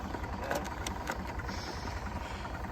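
A tractor engine runs in a garden, giving a faint, low, steady rumble with a regular pulsing throb for a few seconds, alone with no talking.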